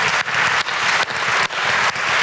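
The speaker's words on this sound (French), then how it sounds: "ça peut s'applaudir." Loud, dense applause from the crowd at a regional business awards ceremony in Nièvre, France, heard close and steady with a few brief dips in volume.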